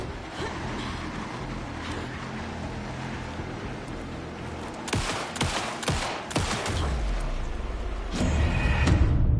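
Gunfire erupts in the video game Alan Wake 2 as a companion pins down an enemy: a cluster of sharp shots around the middle, followed by a heavy boom, all over a constant rumbling game backdrop.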